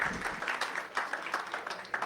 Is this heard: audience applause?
yes